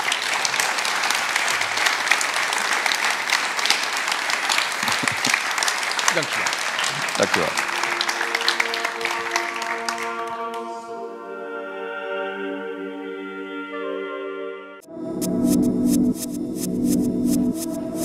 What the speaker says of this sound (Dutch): Maar eerst natuurlijk een hartelijk applaus voor Frits van Oostrom.